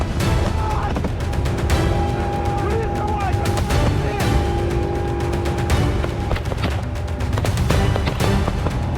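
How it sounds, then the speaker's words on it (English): Vehicle-mounted gun and tank firing in combat during an infantry advance, heard as dense continuous gunfire with repeated sharp bursts and heavy booms, loud and close throughout with a steady roar of battle noise underneath. "The vehicle-mounted gun opens first, so the infantry can move, and the tank follows it, and both keep firing"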